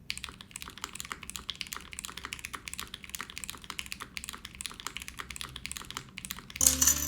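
Fast continuous keystrokes on a Monokei Kei v2 mechanical keyboard with overlubed Gateron Ink switches, muted close clicks in an even rhythm, with a brief louder knock at the very end.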